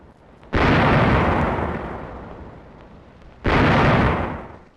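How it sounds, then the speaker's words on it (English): Naval guns aboard pursuing cutters fire on a fleeing German trawler, two loud booming blasts about three seconds apart, each with a long rumbling decay. "Guns opened fire on the German trawler."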